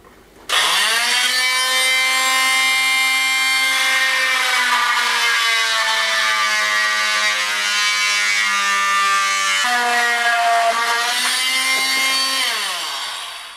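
A power saw cuts out a section of wood during a 150-year-old Spanish farmhouse renovation, a loud, steady whining tone that starts abruptly, holds for about twelve seconds with a brief pitch dip midway, then winds down.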